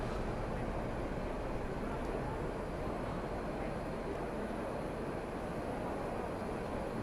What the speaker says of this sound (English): Takes a long time to get all these started.